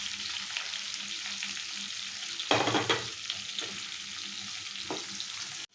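Onion, grated ginger and capsicum frying in a pan for chilli chicken, a steady close sizzle with a brief louder burst of hissing and stirring clatter midway, no voices.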